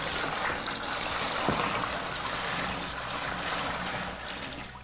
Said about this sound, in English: So if you want to get clean water into this bucket for me